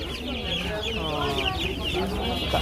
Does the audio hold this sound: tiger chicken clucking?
yes